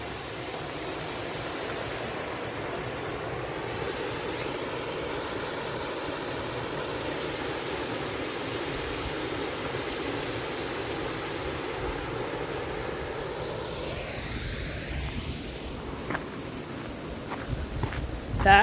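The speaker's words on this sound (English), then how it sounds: "Nice artificial waterfall." Steady, continuous rush of falling water from an artificial waterfall on a lakeside loop trail, a broad even roar throughout, with a few clicks and footsteps near the end.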